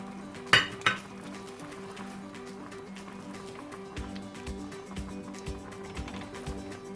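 Coconut milk and jumbo shrimp going into a pan, with a couple of sharp metallic clinks up front followed by soft pouring, light sizzling and scattered utensil taps.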